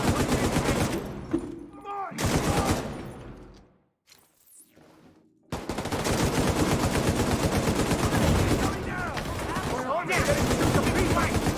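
Rapid gunfire from the video game Tom Clancy's The Division 2, loud and dense, with sustained automatic bursts broken by a short quieter gap before the shooting resumes.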